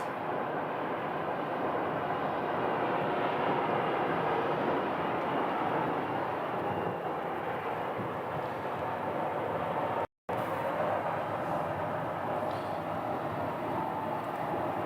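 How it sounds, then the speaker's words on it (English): Boeing 737 airliner taxiing toward a gate at Phoenix Sky Harbor airport, a steady, loud broadband engine roar that holds constant throughout with a very brief dropout near the end. "this 737 is pulling into, that would be gate B7, I guess."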